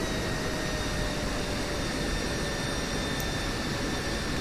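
An F/A-18 Hornet jet at max takeoff weight rolls for takeoff in the DCS World flight sim, giving a steady, close, unbroken roar with a thin high whine held over it.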